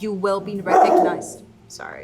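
A dog gives a short burst of barking indoors, fairly close, partly overlapping a woman's speech before and after.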